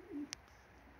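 Racing pigeons of the Budapest breed cooing, a single soft low coo near the start with a couple of faint high clicks, quiet and brief.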